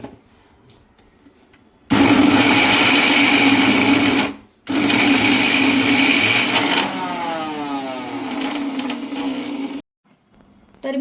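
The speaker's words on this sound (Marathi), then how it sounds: "आपण या चण्याला मिक्सरमध्ये बारीक करून घेणार आहोत।" A kitchen mixer grinds chickpeas in two loud, close bursts of high whirring with a gritty rattle, separated by a short pause and ending abruptly.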